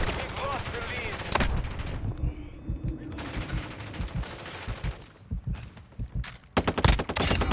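Shotgun blasts and other gunfire crack in bursts during a team deathmatch of Call of Duty Modern Warfare II on the Museum map, loud and irregular, with gaps between shots and no speech.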